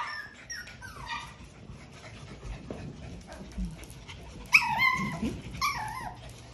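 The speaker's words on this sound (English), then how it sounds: "And now the puppies are having a tug of war with it." Puppies tugging at a sandal together, giving high whimpers, yips and panting close by, with scuffling and short sharp squeals bunched toward the end.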